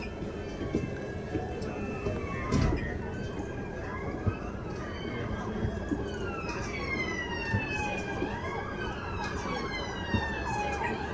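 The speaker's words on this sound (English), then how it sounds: "Okay, then there are some police sirens." Several police sirens in London wail and sweep up and down in overlapping tones over steady city traffic noise, fairly close and prominent throughout.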